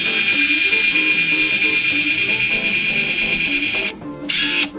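An electric drill bores holes for pickup mounting plates on an Emmons Lashley Legrande II pedal steel guitar, a steady high whine running continuously, then briefly stopping and restarting near the end, close and loud.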